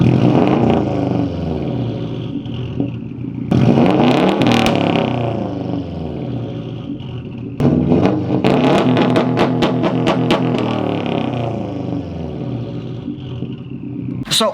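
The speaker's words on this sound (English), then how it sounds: "here are a couple sound clips of an unequal length header on my STI when we had the stock header on the" A Subaru STI with the stock unequal-length header gives a deep, lumpy exhaust rumble that swells through loud revs, drops back to a burbling idle, then climbs again in a second strong rev.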